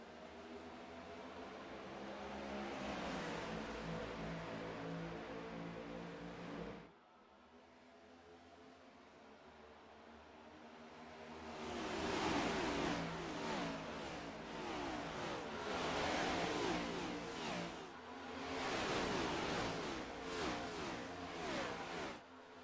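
A pack of race car engines revving and accelerating at a restart on the Atlanta Motor Speedway oval in the iRacing sim, a steady roar that cuts out briefly and then swells again with rising, surging tones.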